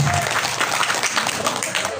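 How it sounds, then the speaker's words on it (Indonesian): A dense burst of clapping from a group at an Islamic boarding school demonstration, about two seconds of steady, close applause with a little voice over it. "Tepuk tangan."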